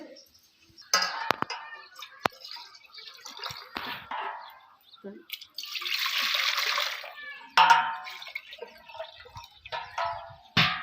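Water splashes and pours steadily into a metal pot set on a wood-fired stove for a couple of seconds, with clattering and handling noises before and after, close by.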